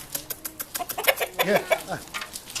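Several chickens cluck and squawk nearby in quick, uneven bursts, with faint voices mixed in.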